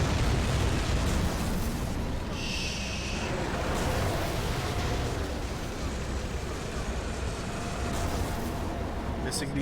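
Gunshots in the horror video game Call of Cthulhu: Dark Corners of the Earth, heavy booming blasts buried in a loud, constant rumbling din with a voice speaking over it.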